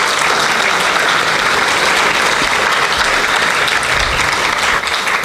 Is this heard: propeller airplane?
no